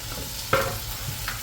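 Frying onions for biryani sizzle in a pan at home while being stirred, a steady hiss with two short scraping strokes.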